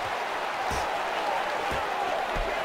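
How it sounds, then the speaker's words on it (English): Crowd noise from the UFC 2009 Undisputed video game, a steady wash of arena cheering and murmur running under a fight, with a few dull thuds of strikes landing. "Ah, the crowd reacting."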